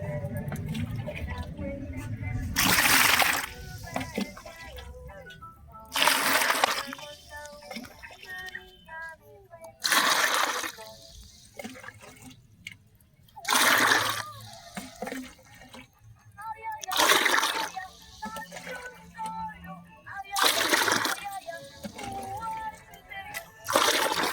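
Water poured into an aloe vera plant-nutrient mix, ten cups to one, splashes loudly in about seven separate pours a few seconds apart, with quieter stirring and sloshing between them and a person talking over the gaps.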